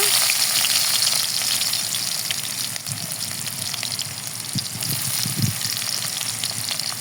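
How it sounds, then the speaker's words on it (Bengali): Chopped onions fry in oil left over from frying rohu fish, giving a constant close sizzle with a few soft knocks and stirring bumps partway through and no speech. "মাছের তেলেই পেঁয়াজ কুচি ভেজে নেব"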